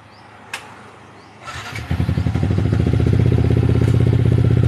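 A dyno-tuned Yamaha Y15ZR motorcycle with a 57mm-spec engine and Red Leo ECU clicks, then fires up and settles into a loud, close, rapid pulsing idle.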